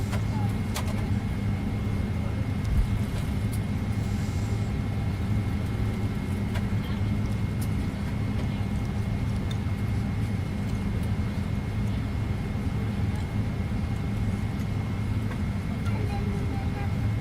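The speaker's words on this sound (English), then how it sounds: "We'll be taxiing to the runway here in the next 5 minutes or so." An airliner taxis toward the runway in a flight simulator game, its engines giving a steady, unbroken low hum and drone that holds at an even level throughout, with no clear voices over it.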